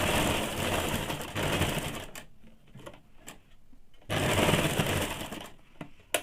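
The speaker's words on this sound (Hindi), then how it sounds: "थोड़ी दूर पे इसमें एक और सिलाई चला देंगे" A sewing machine runs fast stitching a seam on a saree-matching blouse, two close bursts of steady whirring separated by a quieter pause with light handling clicks.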